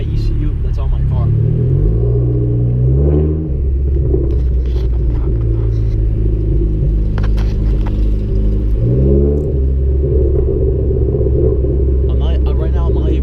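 A Hyundai Genesis car idles with a steady low rumble while its ECU is being flashed, the engine droning continuously with a couple of brief pitch swells and occasional clicks.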